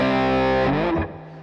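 A heavily distorted electric guitar chord, run through the IFX Rack effects app on iOS, rings out thick and buzzing, then shifts into a brief bending phrase before fading.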